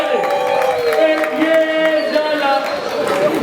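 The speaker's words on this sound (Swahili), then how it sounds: "Piga vigelegele." A wedding crowd ululates, the high trilling cries rising and overlapping near the microphone and mixed with cheering and voices.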